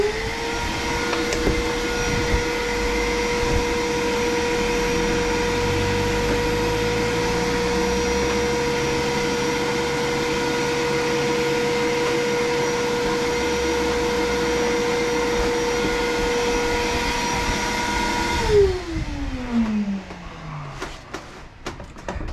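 Vacuum motor on an XCarve CNC vacuum bed holding a workpiece down, a loud steady whine with a constant tone that runs unbroken for about eighteen seconds, then shuts off and winds down with a falling pitch.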